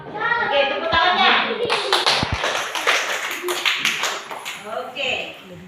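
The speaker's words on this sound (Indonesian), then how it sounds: "tepuk tangannya" Schoolchildren clapping their hands together in a classroom during a lesson, a dense burst of many small claps close by, with children's voices and chatter mixed in.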